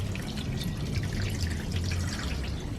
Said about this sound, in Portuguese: Estou jogando uma água doce aqui para diminuir essa questão da ferrugem